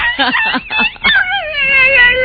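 A dog whimpers and yips in a run of high, wavering cries, several short yelps followed by a longer drawn-out whine, close and fairly loud with faint voices underneath.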